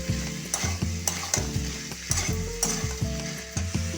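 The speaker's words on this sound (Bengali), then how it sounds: "দিয়ে একটু ভালোভাবে কষে নিচ্ছি" Chickpeas and spice paste sizzle as they are stir-fried in a pan, with a steady frying hiss broken by rhythmic scrapes and knocks of a spatula against the pan roughly every half second.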